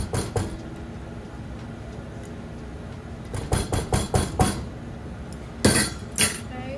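A spatula scrapes coconut oil out of a jar, giving a series of short knocking scrapes and clinks in two brief bursts after a quiet stretch, with faint kitchen background.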